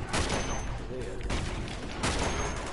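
Gunfire in the Uncharted 2: Among Thieves video game: a steady barrage of rapid shots and sharp cracks, loud and close throughout, with a heavier burst near the start and another near the end.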